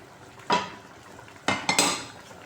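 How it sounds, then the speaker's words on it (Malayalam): A spoon scrapes and knocks against a pot as semolina is stirred into boiling water for upma, with one stroke and then a quick pair of louder scrapes and clinks over a quiet background. "അപ്പം ഞാനിപ്പോൾ ഇതിലേക്ക് റവ ഇടുവാണ്. നന്നായിട്ട് നമ്മളിട്ടങ്ങ് ഇളക്കണം."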